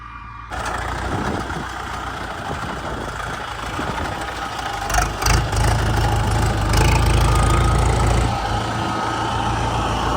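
A Dongfeng-404 tractor pulling a VESNA-4 seeder while sowing corn makes a steady, close engine drone with rattling and clanking from the implement, and a few louder bumps in the middle.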